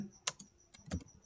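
A few separate clicks of keys on a computer keyboard as a file name is typed, close and fairly quiet, with no voice.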